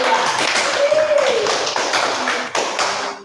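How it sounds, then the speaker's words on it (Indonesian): A small class claps for a presenting student group, a few seconds of uneven hand claps close by, with a voice talking over them near the start. "Ya, tepuk tangan buat kelompok 2."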